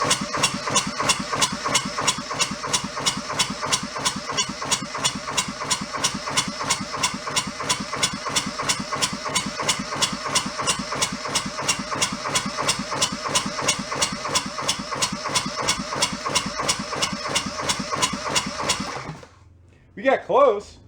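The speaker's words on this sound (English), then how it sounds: "I would say that is like idle speed" A small junked diesel engine idles loudly and close, a fast steady chugging knock running without a break before it suddenly cuts out near the end, followed by a brief sputter.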